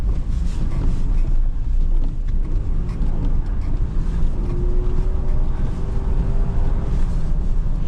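Rear-wheel-drive truck driving and drifting on a snowy street, a continuous loud engine drone with steady rumble and wind buffeting the microphone, no speech.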